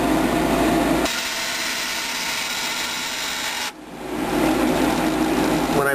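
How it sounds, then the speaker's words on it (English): Furnace with an out-of-balance fan blade striking its casing, a loud broadband rattling whir that swells, drops briefly, then returns, steady and close without talk. "It might be the fan hitting the casing."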